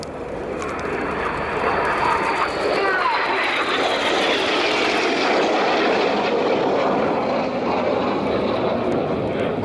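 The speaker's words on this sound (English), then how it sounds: "Synchro are now closing at over 800 miles an hour, just 100 feet above the runway to perform the Synchro pass" Red Arrows jets perform the Synchro pass at RIAT 2012, closing at high speed about 100 feet above the runway. A loud, continuous jet roar fills the whole stretch, swelling slightly as the aircraft pass.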